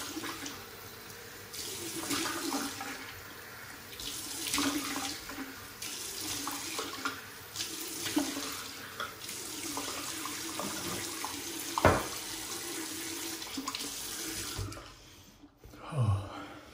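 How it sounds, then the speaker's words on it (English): Tap water runs steadily into a sink while a face is splashed and rinsed before a wet shave. The flow is continuous and close, with small splashes, and it stops near the end. "Let's wet the face, or at least rinse the face."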